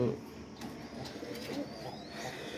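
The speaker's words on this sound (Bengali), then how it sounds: "কারো যদি পছন্দ হয় কবুতরগুলো দেখুন বাচ্চা আছে দুইটা" Pet pigeons, fancy and Pakistani breeds kept with their young, coo softly nearby in low throaty calls while someone talks over them.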